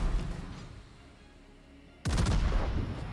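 Naval guns on a warship in a naval combat video game, a single loud booming salvo erupting abruptly after a quiet stretch of low rumbling ambience and ringing on with rumble.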